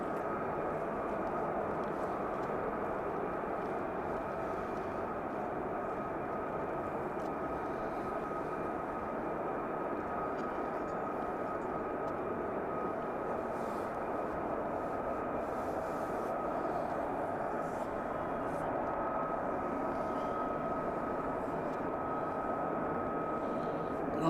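A constant, broadband roar of military aircraft during night flying at RAF Lakenheath, steady and fairly loud throughout with a faint whining tone on top.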